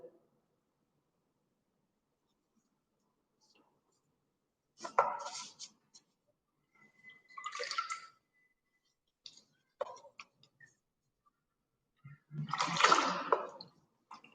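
An old item of clothing is dipped into water during an up-cycling craft session, giving a few short splashing and sloshing bursts separated by quiet gaps, close and fairly faint.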